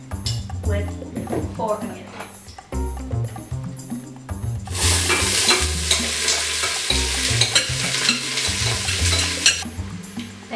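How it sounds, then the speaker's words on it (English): Onions and garlic sauteing in olive oil inside a pressure cooker, a steady crackling sizzle that swells louder halfway through, with stirring scrapes and occasional clinks of utensils against the pot. "So we're sauteing the onions with 2 cloves of garlic"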